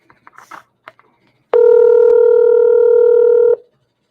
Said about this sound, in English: I'm going to try to call my friend real quick to see if he's coming up